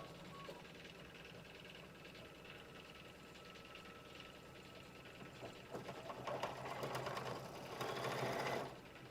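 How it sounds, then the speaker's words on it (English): An embroidery sewing machine runs a tack down stitch while quilting, its steady rapid needle chatter close and continuous, growing louder and busier toward the end. "So now it'll do the tack down stitch."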